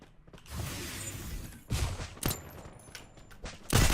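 Gunfire in the mobile shooter Free Fire Max comes in several loud, sharp bursts with short gaps between them, standing alone without any talking.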